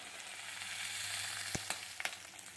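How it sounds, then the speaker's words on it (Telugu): Onions fry with garlic paste in a pan for a palak matar curry, hissing in a steady sizzle with a few sharp stirring clicks and pops toward the end. "ఇదిగోండి ఉల్లిపాయలు కొన్ని బాగా వేగిపోయి దానిలో వెల్లుల్లి పేస్ట్ వేసుకోవాలి"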